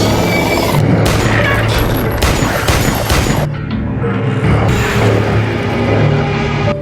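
Machine gun fire erupts in a loud, dense barrage of rapid bursts and booming impacts, with a brief lull before heavier shooting resumes, close and overwhelming.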